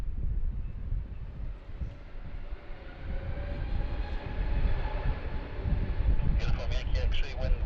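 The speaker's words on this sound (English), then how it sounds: "we've got the Air Calin 141 Sierra A320 Neo here, just about to depart" An Air Calin Airbus A320neo airliner departs Sydney Airport from runway 16 right in windy, rainy weather, a broad rumbling roar that builds steadily, heard with talk over it and a brief radio-like chatter near the end.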